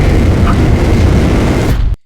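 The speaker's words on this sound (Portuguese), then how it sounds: "olha como existe um gap no áudio e depois um boom muito grande" A large explosion boom from a movie trailer soundtrack, a loud, dense rumbling blast that fills the whole clip alone and then cuts off sharply into silence.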